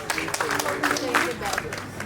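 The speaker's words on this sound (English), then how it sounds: "Give a round of applause for the English communication batch students" Audience clapping at an academy's annual event for the English communication batch students, a dense, steady patter of many hands with voices and crowd noise mixed through.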